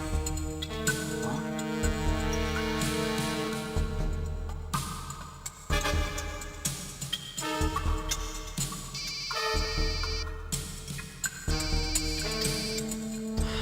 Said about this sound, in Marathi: घ्या घ्या मॅडम फोन उचला